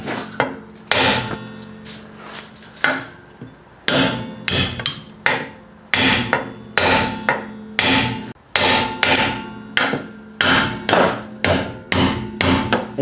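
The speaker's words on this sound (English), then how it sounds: "smack the back of this extension, go back and forth. Maybe a couple smacks here, and then move over here." A hammer smacks an extension bar again and again to knock a stuck car part loose, the loud metallic blows coming in quick clusters with short pauses between.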